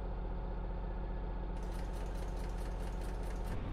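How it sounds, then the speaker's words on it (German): Diesel engine of a VDL Ambassador city bus idling in the OMSI 2 bus simulator, a steady low rumble with a faint rhythmic ticking that grows brighter partway through, running alone without voices. "So, jetzt machen wir hier mal den Motor an."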